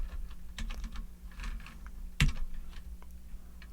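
Keys tapped on an ETC Eos lighting console keyboard in a theater, an uneven run of close clicks with one sharper, louder keystroke near the middle, no speech.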